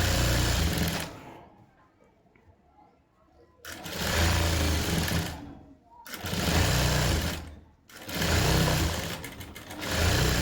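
A sewing machine stitches piping onto a small-cloth blouse in three loud, fast bursts of rattling whir, separated by pauses of near silence.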